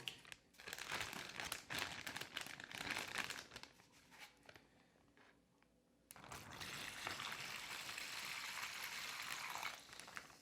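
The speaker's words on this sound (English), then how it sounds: "So now let's pour some vinegar in." Vinegar being poured into a plastic bag fastened around a shower head to soak off lime deposits: a crinkling, trickling rush that pauses briefly midway, then resumes as a steady pour until it cuts off near the end.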